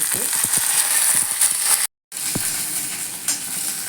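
Whole spices, fennel seeds, cinnamon, cloves and curry leaves, crackle and sizzle in hot oil, with a few sharp pops and stirring clatter; a brief silent break in the middle.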